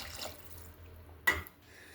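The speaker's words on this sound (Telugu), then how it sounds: "రెండు కప్పులు వాటర్ పోస్తున్నాను." Water poured from a cup into a cooking pot of jowar rava pulao, a single short splashing gush standing out briefly over a quiet low background.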